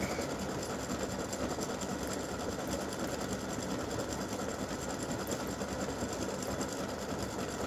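An embroidery machine stitches a freestanding lace breast cancer awareness ribbon in pink thread, a fast, steady mechanical whir and needle chatter running continuously and close with no pauses.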